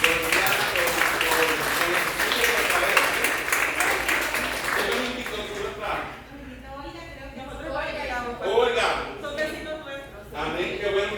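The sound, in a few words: audience applause in church service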